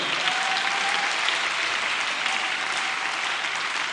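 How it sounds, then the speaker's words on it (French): A church congregation on the last day of a three-day fast and prayer gathering applauding loudly and continuously, a dense, sustained wash of clapping filling the room. "Applaudis bien les seigneurs des seigneurs"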